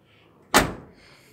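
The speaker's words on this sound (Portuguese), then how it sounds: "A porta." A single solid slam of a door on an old Volkswagen Kombi Clipper van with bare, unpainted metal, one sharp close thud that rings briefly and fades into quiet.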